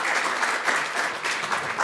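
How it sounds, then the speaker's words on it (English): A room full of people claps steadily at the close of a talk, a dense even wash of applause lasting the whole brief moment. "Give a round of applause, please."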